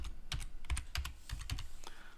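Keystrokes on a computer keyboard as a password is typed during a Linux Mint upgrade, a quick uneven run of close, crisp clicks and taps with no talking.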